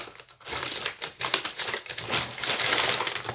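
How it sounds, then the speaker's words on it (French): A box of chocolates being opened, with close crinkling and crackling of paper or plastic wrapping in irregular bursts, fairly loud and without speech. "ouvrir la boîte de chocolat"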